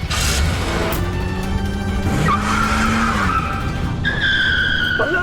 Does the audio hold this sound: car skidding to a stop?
yes